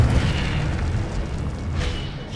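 A fiery Incendio spell in Hogwarts Legacy bursts into a sustained whooshing, rumbling blast of flame, loud and continuous for a couple of seconds.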